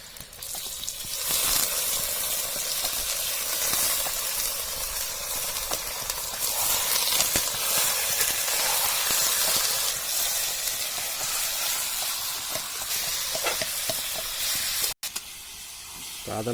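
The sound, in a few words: pork sizzling as it is added to the pan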